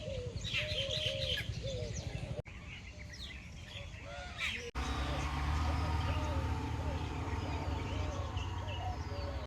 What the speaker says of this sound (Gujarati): અહીંયા 112 પ્રકારના પક્ષીઓ જોવા મળે.